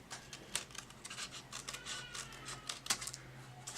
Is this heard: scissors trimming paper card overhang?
yes